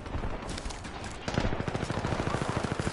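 Video game sniper rifle fire comes as a quick series of sharp, moderately loud gunshots in a fast regular rhythm, alone with no talk.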